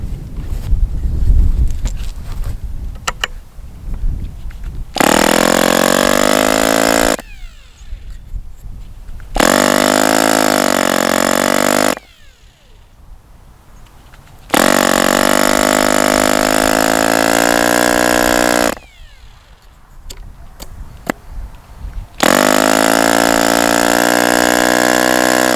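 An OS 29 model glow engine set rich with the needle valve open about two turns runs in bursts, a loud high-pitched buzzing whine that starts and stops several times between quiet gaps with wind noise.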